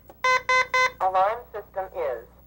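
An apartment security alarm system sounds three loud, evenly spaced electronic beeps, followed by a run of shorter, warbling electronic tones close to the listener.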